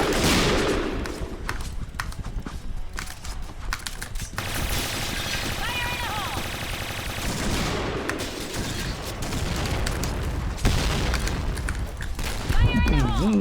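Booming explosions and rattling gunfire fill a video game shooter match, with loud broadband blasts at the start, a sustained roar midway and another near the end, under a player's voice.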